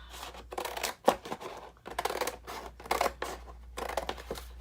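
Scissors snip and crunch through the end of a cardboard box in a series of short cutting bursts, close and fairly quiet, with no talking.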